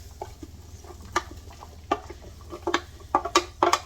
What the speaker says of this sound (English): bubbling, sizzling. You see the spices waking up.